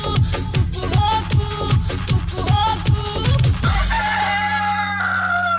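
A rooster crows over a rhythmic music track with a thumping beat, the crow standing out loudly near the middle before the music thins out.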